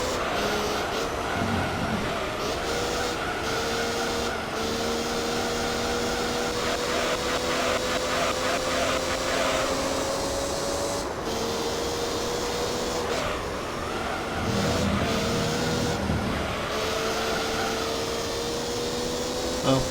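Race car engine in Gran Turismo 3: A-Spec during an amateur Type-R race, a continuous droning whine rising in pitch through the gears and dropping on shifts, steady and close for the whole stretch.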